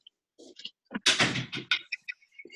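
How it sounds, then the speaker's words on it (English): A door in a home is pushed shut with a loud thump, then followed by scattered rattling and knocking bumps, with silence before and after. "Let me shut my door real quick."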